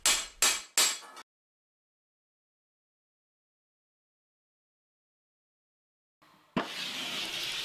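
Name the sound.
broad smooth hammer striking armour poleyn on ball stake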